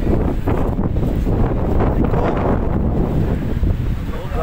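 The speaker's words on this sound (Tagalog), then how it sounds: "Grabe hangin, no?" Strong wind roars and buffets the microphone continuously, a loud rushing gust with no break throughout.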